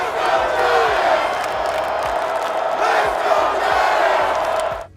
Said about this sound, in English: it's nice to hear, New York Giant chants at the end of the game.